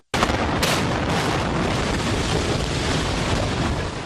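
A sudden loud blast from the demolition of the Supertech Twin Towers high-rises erupts and turns into a sustained, heavy rumbling roar that continues to the end.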